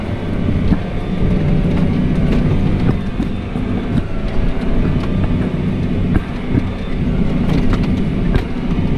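A Case Puma 225 CVX tractor engine pulling away in a field, a loud, steady low rumble with rattling, clattering mechanical knocks throughout.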